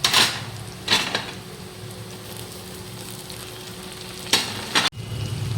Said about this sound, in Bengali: ভালো করে পেঁয়াজটা যখন ভাজা হয়ে যাবে আমি তখন এর মধ্যে টমেটোগুলো দিয়ে দেবো।